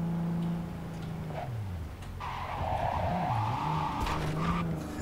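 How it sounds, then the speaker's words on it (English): A car in the video game Cyberpunk 2077 drives with a steady engine drone, then its tires squeal in a sustained skid, loud and close, with no talk over it. "As bad as I am at driving, the driving works for the most part."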